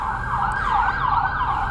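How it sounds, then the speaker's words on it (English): Ambulance and police sirens at a busy gas station wail in a loud, continuous rising-and-falling sweep, close and unbroken, with traffic noise underneath and no voices. "Ambulances and cop cars everywhere."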